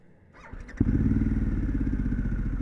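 A Harley-Davidson Pan America 1250 motorcycle with an engine warning fault restarts with a short starter whir, then catches and settles into a loud, steady, close-up idle with a throbbing rhythm.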